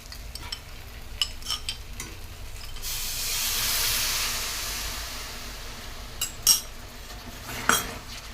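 Spiced water poured onto sautéed potatoes in a pan raises a broad hissing sizzle that swells and fades, with scattered utensil clinks and scrapes before and after, close and moderately loud.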